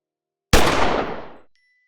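One sharp, loud gunshot cracks out after a moment of silence, its echo rolling away over about a second before it fades to quiet.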